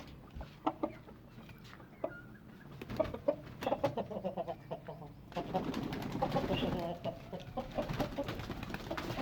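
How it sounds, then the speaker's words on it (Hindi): A hen sitting on eggs clucks in short, irregular bursts, with rustling, movement and bird noise around her and faint voices in the background. "ये देखिए मुर्गी अंडों पे बैठ के"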